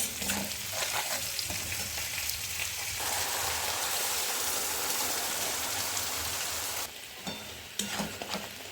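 Spice masala with salt and turmeric sizzles and fries in a pan during cooking, a steady soft crackling hiss with occasional stirring scrapes, fairly quiet and close, no talk.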